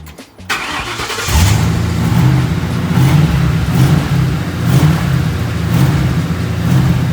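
A Ford F100 truck engine cranks briefly, catches and starts, then runs loud and close with a steady, slightly uneven rev; no one talks.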